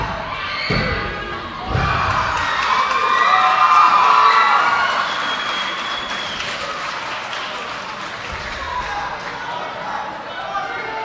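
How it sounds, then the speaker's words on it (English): Wrestling crowd erupting in cheers and applause at a pinfall kick-out after a tombstone piledriver, a loud sustained roar with shouts that swells and slowly fades, with sharp thuds near the start. "by the crowd reaction, you can probably guess that Kripke just kicked out of it."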